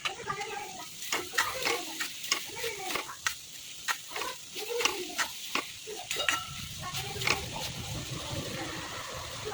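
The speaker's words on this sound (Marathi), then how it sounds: "जी मी भाजलेली सुकट घेतली होती ती आपण याच्यामध्ये ॲड करूया." Dried shrimp (sukat) stirred into cooking vegetables in a pan, with repeated scraping and clattering of the spoon over a soft sizzle, close up and fairly quiet.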